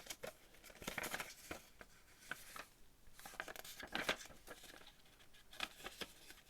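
Paper warranty leaflet being unfolded, with soft crinkles and crisp rustling bursts coming in irregular handling movements, close but faint, and nobody talking.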